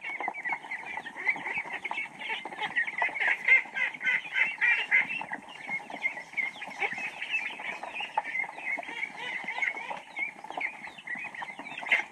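Chickens clucking on a rural farm in the province, a busy, continuous chorus of close clucks and squawks from several birds with no pauses.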